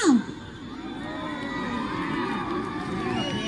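Crowd at a school stage show cheers and shouts in a loud, steady wash of many voices, with a brief whoop at the start and the roar holding through to the end.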